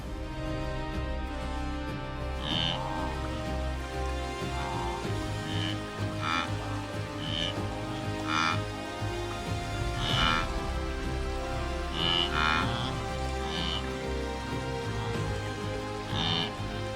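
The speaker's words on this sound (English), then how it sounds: "Then the first heavy rain arrives, sudden, powerful, and full of promise." Heavy rain falls on open grassland as a steady, dense hiss with scattered louder drops and splashes, running continuously for the whole stretch.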